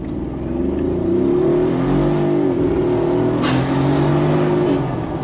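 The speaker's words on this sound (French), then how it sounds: "Oh là, t'entends les pneus qui font." Tires of a large 4x4 off-road vehicle rolling while driving, a steady low droning hum heard from inside with engine rumble beneath, continuous and fairly loud.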